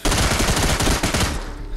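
Gunfire in the zombie shooter game Into the Dead 2, fired with incendiary ammunition, comes as a loud, rapid burst of closely spaced shots that rattles continuously before tailing off slightly at the end.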